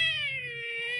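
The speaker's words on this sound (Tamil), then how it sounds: "ஏதோ பூனை கத்துது" A cat in the video game Minecraft gives one long, drawn-out meow, clear and close with nothing else around it.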